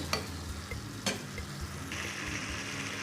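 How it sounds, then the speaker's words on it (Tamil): Carrots cook in a hot pan with a continuous close sizzle, broken by a couple of sharp spoon clanks against the pan and a rise in frying noise toward the end. "இப்போ நம்ம கேரட்டு நல்லா வெந்துக்கிட்டு இருக்குது"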